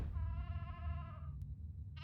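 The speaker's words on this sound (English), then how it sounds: "I hear a fucking goat." A goat bleats once in a drawn-out, wavering call that lasts about a second, fairly close and alone, followed by a faint short click.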